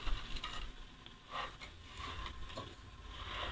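Rice for prawn biryani is stirred and fried in a pan, giving a quiet, close sizzle with soft scraping strokes of the spoon, no talking.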